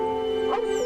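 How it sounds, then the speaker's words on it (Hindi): A dog's brief yip or whimper during a sniffing competition in an animated romance set around a young empress, heard against a steady tonal musical background with a short higher cry near the middle. "राजकुमार, ये एक नस्लीय कुत्ता नहीं है।"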